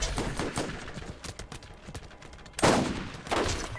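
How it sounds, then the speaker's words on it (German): Sniper rifle shots ring out in the video game Borderlands, several sharp cracks spread over a few seconds with the two loudest near the end, mixed with game noise and no talk. "Ich, ich, ich sniper die ganze Zeit auf seinen Kopf und treffe ihn nicht"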